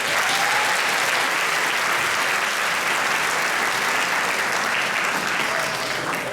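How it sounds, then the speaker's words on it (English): Loud, dense, sustained applause from a concert audience for students at a Rosemount music department junior spring concert, filling the whole stretch without pause. "and a round of applause to the students."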